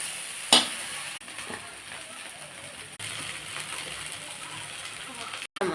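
Homemade egg fried rice with onion, chilli, soy sauce and chilli powder is tossed in a hot pan. A continuous sizzle and scraping runs throughout, with one sharp metallic clank near the start and a couple of abrupt cutoffs.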